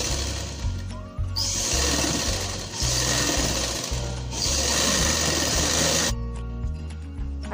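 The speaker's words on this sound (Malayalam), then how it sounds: "ഇനി ഇത് മടക്കി അടിച്ചു കൊടുക്കണം." Sewing machine stitching the folded-over slit of a kurti in continuous bursts of rapid, loud mechanical whirring, broken by brief pauses and then resumed.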